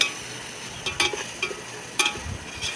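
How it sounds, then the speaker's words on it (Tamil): Tomatoes with salt being sautéed in a pan over a wood fire for chicken biryani: a quiet sizzle under several distinct scraping stirs of a spoon, close by, without speech. "உப்பு சேர்த்து நல்லா வதக்கிட்டுக்கோங்க"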